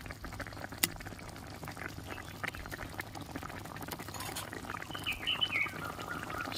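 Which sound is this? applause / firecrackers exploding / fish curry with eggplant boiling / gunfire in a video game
fish curry with eggplant boiling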